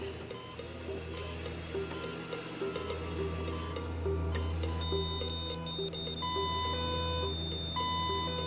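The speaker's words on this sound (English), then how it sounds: "But when the boy stopped breathing, his medical alarm spoke for him." A child's medical alarm sounds in a house at night, giving steady, repeated electronic beeps over a low constant hum. The beeping is fairly quiet and sustained.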